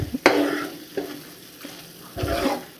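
A wooden spoon or spatula stirs mushroom curry with fresh coriander in a hot frying pan, giving a few scraping strokes over a soft oily sizzle, close and moderately loud, with no talking.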